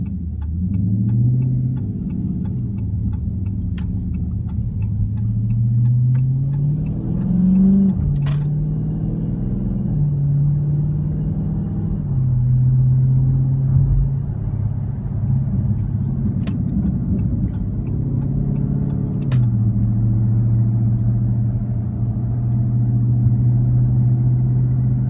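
Dodge Charger Scat Pack V8 engine rumbling steadily at close range while being driven, with rising revs between gear changes and a continuous low drone throughout, no talking over it.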